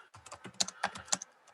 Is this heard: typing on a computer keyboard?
yes